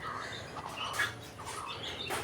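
Pigeons and chickens calling at a small home farm, with soft cooing and clucking against a faint background hum and a quick bird chirp, no talking.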